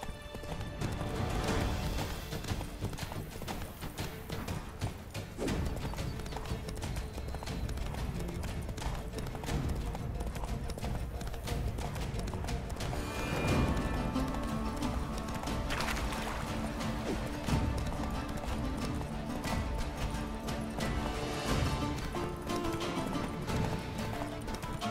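A horse gallops in the video game The Witcher 3: Blood and Wine: steady, close clip-clop hoofbeats run throughout with an occasional whinny, set within a dense, continuous game soundscape.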